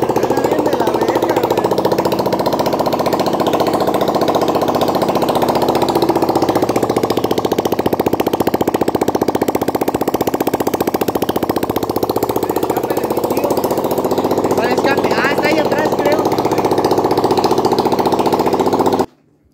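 A motorcycle engine runs with its exhaust pipe removed, giving a loud, raw, rattling drone that holds steady and close for the whole stretch before cutting off abruptly at the very end.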